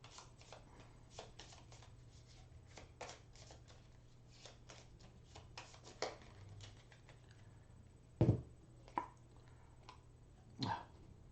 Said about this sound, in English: I have no cards, so I have to shuffle again.